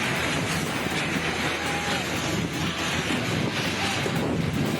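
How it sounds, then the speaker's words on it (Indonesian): Strong tornado winds tear across rice fields in Kedung Wonokerto, Prambon, Sidoarjo, East Java, with heavy rain, a loud steady roaring rush of wind buffeting the microphone throughout. "Angin kencang menerjang persawahan disertai hujan deras di kawasan itu."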